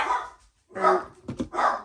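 Dogs barking in a few bursts, close and fairly loud, with short pauses between barks and no talk over them.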